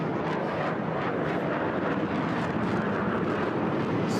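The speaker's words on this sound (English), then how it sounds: "So coming round for the next manoeuvre, the Tejas." A HAL Tejas fighter jet roars through a manoeuvre at an air show in Bahrain, a loud broad steady rush of jet noise with some wind buffeting, no voices.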